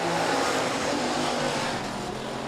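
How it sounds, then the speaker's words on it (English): A hobby stock race car roars around a dirt oval at a speedway, its engine a loud sustained drone with no talk over it. "Nice of Carson to let him borrow his race car."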